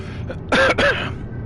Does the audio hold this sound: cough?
yes